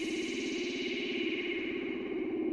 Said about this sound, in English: The reverb on the actual channel is used for an effect.